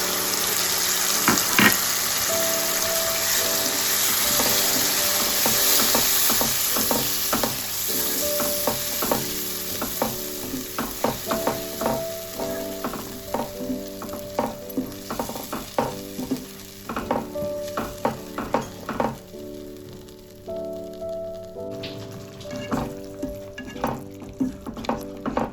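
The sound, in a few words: tomato and green chili puree added and frying in pan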